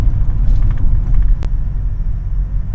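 2000 Toyota Tacoma with worn sound deadening cruising at city speed, steady low road rumble and engine drone heard from the cabin, no talking.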